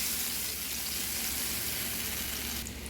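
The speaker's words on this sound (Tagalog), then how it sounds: "Nagpatunaw na tayo ng butter." Butter melts in a pan with a steady, close, even sizzle that runs unbroken throughout, ahead of cooking a chopsuey stir fry with chicken wings.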